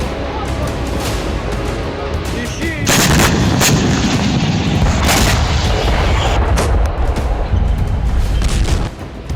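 Heavy explosions and artillery fire during a Russian attack in Ukraine, loud booming blasts and rapid gunfire that grow denser and more intense partway through, with a faint voice underneath.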